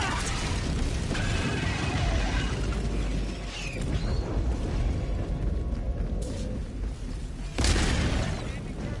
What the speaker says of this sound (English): There's a hell bomb over here. I think I'm gonna detonate.